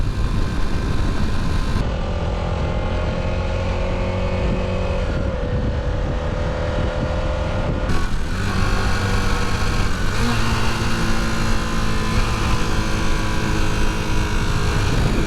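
A rebuilt Honda CB250 Super Dream motorcycle carries two riders at 60 mph on high revs. Its loud, continuous engine drone mixes with wind roar, and the pitch steps up and down a few times.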